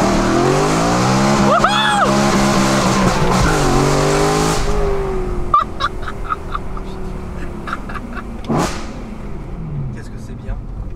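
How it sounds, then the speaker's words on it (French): A BMW M6 accelerates hard nearby, engine revving up through rising gear pulls for several seconds with a sharp whine, then easing off to a lower drone as voices chatter over it. "je vous fais une petite dernière accélération"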